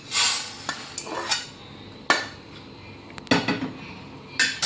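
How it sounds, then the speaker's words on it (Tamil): Freshly roasted lentils for Andhra-style paruppu podi are tipped and scraped from a pan onto a metal plate, giving several sharp metallic clatters and rattling scrapes, close and fairly loud, with no talk. "ஒரு தட்டில் தட்டிக்கோங்க."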